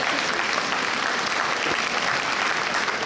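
Audience at a celebrity tennis tournament in Świnoujście applauds the players, a dense, steady wash of many hands clapping at close range for the full few seconds, with no voices standing out.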